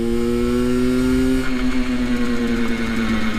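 A motorcycle engine revs steadily, then drops pitch sharply as the rider shifts into second gear and carries on droning, loud and close without talk.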